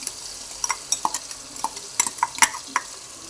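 A spoon scrapes and clinks against a pan while ground ginger-garlic paste is stirred into cooking onion and tomato for egg biryani, with irregular metallic taps over a soft background sizzle.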